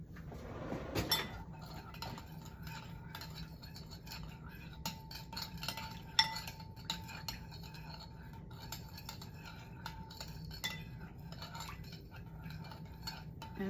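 A teaspoon stirs coconut aminos in a small bowl, producing soft, continuous metallic clinks and scrapes of cutlery against the dish that run steadily for several seconds at a close, quiet level.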